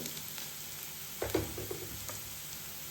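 Chopped onions sautéing in a pan for an onion-chili chutney, a steady low sizzle with a few brief stirring scrapes in the middle, fairly faint and with no talking.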